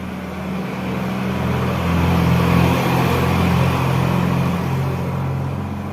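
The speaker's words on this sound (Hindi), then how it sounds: "रुको दोस्तों, गाड़ी जा रही पार होने तो आवाज सबको सुनाई नहीं देगा।" A road vehicle passes by outdoors: a low engine rumble swells toward the middle and then slowly fades, with no talking.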